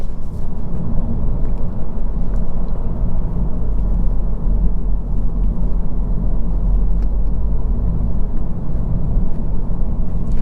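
A 2022 Honda Civic Touring Sedan accelerating on a back road, heard from inside as a loud, sustained low engine and road rumble with a steady droning roar and no speech.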